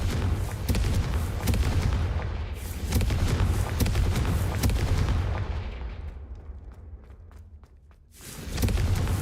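Repeated explosion spell blasts in Hogwarts Legacy land as heavy, crackling booms in quick succession. They fade into a quieter stretch before another loud burst hits at the end.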